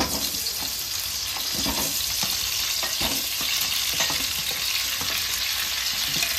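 Tomato halves frying in hot oil in a pan, a steady loud sizzle throughout with occasional spatter pops and a few clinks of stirring, no talking.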